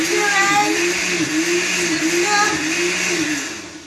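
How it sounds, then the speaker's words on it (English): A blender whirs loudly and continuously while pureeing vegetables for soup, its motor pitch wavering slightly, then winding down near the end. "And then I'm going to blend it."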